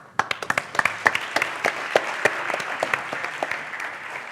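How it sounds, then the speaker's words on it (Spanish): After the diploma handover closing a clinical case panel, a modest audience claps for the finalists, with distinct individual claps standing out at first before settling into even, moderately loud applause. "Un aplauso."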